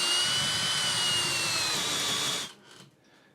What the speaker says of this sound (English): as you start going beyond the flute, it will start bogging down inside the hole, which means you need to pull the drill back out just to clear the flute